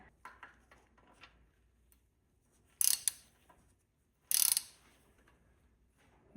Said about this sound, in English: I'm just gonna tighten it until I can feel the crush washer crush.